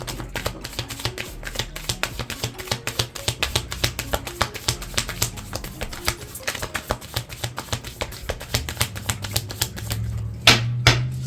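Tarot cards are shuffled by hand in quick, steady riffling clicks that run on for several seconds, close and fairly quiet, ending in a couple of louder taps.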